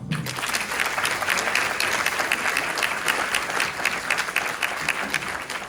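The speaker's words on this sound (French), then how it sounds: "Je demande d'applaudir très fort." Sustained audience applause at a crime and public opinion conference in France, dense steady clapping from a large crowd filling the whole stretch without pause.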